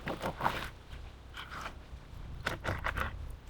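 A crisp crunching as a mushy pea fritter is broken open, a few separate cracking bursts near the start and again toward the end, close and fairly loud with no talking.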